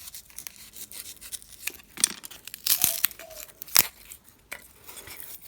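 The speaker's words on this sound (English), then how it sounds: "I'm going to use my little steak knife and cut that out" A small steak knife saws through a block of styrofoam, giving scattered crinkly, squeaky tearing bursts, a few sharp and close, separated by quiet pauses.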